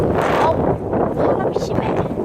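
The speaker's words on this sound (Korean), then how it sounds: "바람이 심해." Strong gusts hit the microphone head-on, a loud rumbling buffet that surges and dips in uneven bursts, with a voice faintly under the noise.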